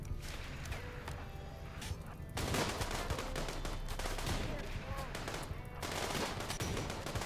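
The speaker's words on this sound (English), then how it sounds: "And Speedy got a headshot" Gunfire in the colony-survival video game Rimworld during a raid, with dense bursts of rapid, loud shots firing almost continuously and briefly easing off partway through.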